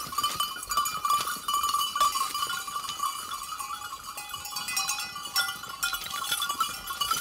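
Goats being let out of their farm enclosure in the morning, with bells clanking steadily and bleats mixed into a continuous outdoor din, heard fairly close throughout.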